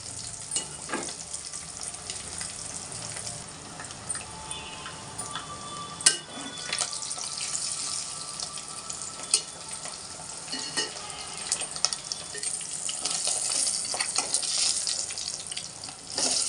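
Egg curry ingredients frying in a pan, a dense continuous sizzle and crackle with occasional scraping stirs and clinks, close and moderately loud throughout, no voices.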